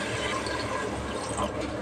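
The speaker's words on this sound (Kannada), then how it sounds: "ಈಗ ಎಷ್ಟು ಬೇಕೋ ಅಷ್ಟು ನೀರು ಹಾಕ್ಕೊತಾ ಇದ್ದೀನಿ" Water is poured into veg kurma cooking with fried cashews and onions, a short, continuous splashing pour at close range with no talking.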